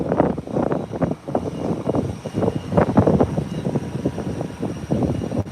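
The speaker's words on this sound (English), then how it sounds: "What a wonderful takeoff." Fixed-wing airplane accelerating down a runway for takeoff at Howard Hamilton International Airport, a steady rumbling engine roar with gusty, wind-buffeted fluctuations that stays loud throughout.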